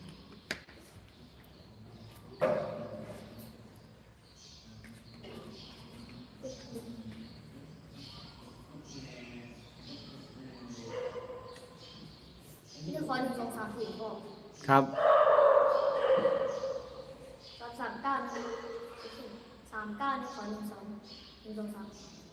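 A dog barks and yips in short, scattered bursts, some close and loud, while a person talks at length nearby.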